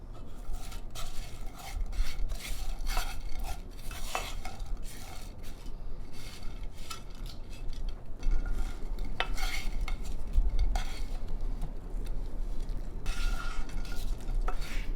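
Saffron mixture with barberries stirred in a pot for a crispy baked chicken rice dish, continuous scraping and clinking of a spoon against the pan with faint sizzling underneath, steady and close.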